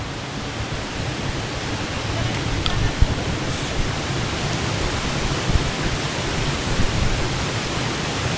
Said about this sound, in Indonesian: Akhirnya kita sampai di shelter air terjun panas guys